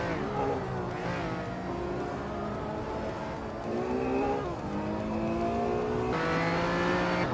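Race car engines drone and rev continuously as several cars compete in a race, with rising and falling pitches overlapping as they shift and pass, loud and sustained throughout.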